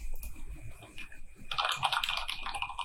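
Quick clatter of keystrokes on a computer keyboard while coding a StrapiJS route, soft and close, starting sparse then becoming a dense burst of typing.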